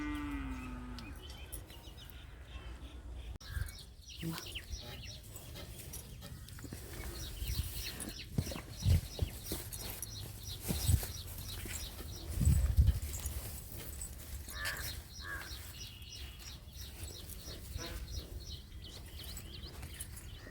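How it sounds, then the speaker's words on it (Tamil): A grazing cow moos several times in an open outdoor setting, with low calls spread across the scene, light rustling and occasional hoof-like knocks, and no speech. "இந்த மாடு மேயுது"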